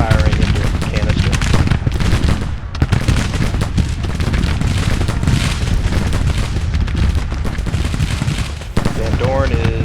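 Cannon firing canister shot in the Civil War strategy game Grand Tactician at the Battle of Manassas: dense, continuous booms and crackling gunfire, loud and relentless with heavy low rumble.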